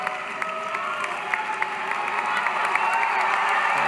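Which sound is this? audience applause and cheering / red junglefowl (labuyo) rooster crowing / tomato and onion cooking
audience applause and cheering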